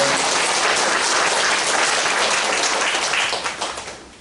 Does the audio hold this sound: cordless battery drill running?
no